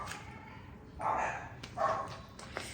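Dogs barking somewhere away from the microphone in a quiet home: two short, moderately loud bursts about a second apart, with no one talking.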